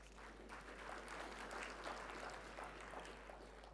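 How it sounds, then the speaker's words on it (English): An audience applauds the presenters at a talk, a faint, distant wash of steady clapping that holds evenly for several seconds over a low constant hum. "a warm round of applause to all the three presenters"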